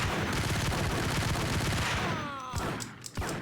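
Gunfire from a gun in the video game Max Payne: a dense, loud burst of repeated shots rattling continuously for about two seconds, then a few scattered bangs as the barrage dies away, with no talk over it.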